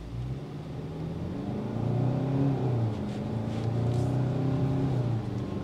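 A 2022 Hyundai Tucson pulls away from a red light in smart drive mode, its engine note rising in a steady, loud drone with audible gear-shift dips over several seconds, heard close from inside the cabin with no talking.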